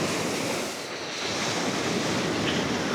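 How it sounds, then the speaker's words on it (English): Ocean surf washes against a man-made stone barrier on the coast at Paphos, Cyprus, a steady broadband roar with wind buffeting the microphone and a brief dip before the waves swell again. "But yeah, it stops the waves."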